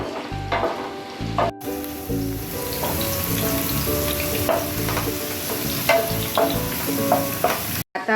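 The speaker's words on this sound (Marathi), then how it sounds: "मी 1 कांदा कापलेला आहे बारीक चिरलेला, त्याला लालसर येईपर्यंत भाजून घ्यायचं आहे।" One finely chopped onion frying in hot oil with a loud, continuous close sizzle and crackle, broken by a couple of brief stirring scrapes and clatters, with no talking.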